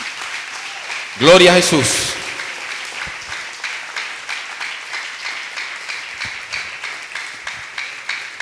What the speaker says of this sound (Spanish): Denle un aplauso al Señor en este día.